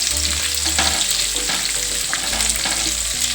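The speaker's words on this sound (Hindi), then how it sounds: "अच्छे से इनको फ्राई करेंगे हरी मिर्च को" Green chillies, seven or eight of them, fry in a pan with a steady, loud sizzle and crackle, and occasional stirring scrapes and clinks sound throughout, with no voices.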